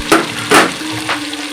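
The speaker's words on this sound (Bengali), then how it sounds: "এবার টমেটো কুচিগুলো ছেড়ে দেবো।" Chopped tomatoes dropped into a hot pan for a crispy chicken sauce, a few quick bursts of sizzle and stirring scrapes over a low background hum, close by.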